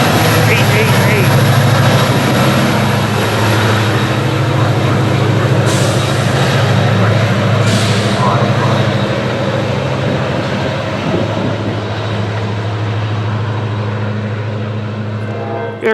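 An Amtrak train rolling into Glendale station: a loud, steady rumble of the train passing close by, with brief higher hissing bursts and a constant low drone that eases slightly toward the end.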